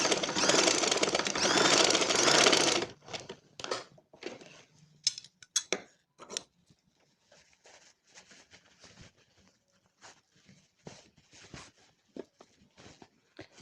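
A sewing machine stitches a school uniform coat collar, running in a steady, dense whir for about three seconds, then falling to scattered light clicks and handling taps.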